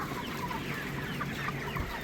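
A dense flock of broiler chickens clucks continuously on a poultry farm around feeding time, a constant overlapping chorus of murmuring clucks with no talking.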